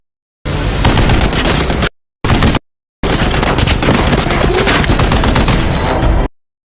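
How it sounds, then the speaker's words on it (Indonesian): Intense, rapid bursts of automatic gunfire, loud and close, broken by a couple of brief silent gaps before resuming in a long volley. "Atami menggunakan tubuh SL tentara untuk melindungi dirinya dari tembakan senjata"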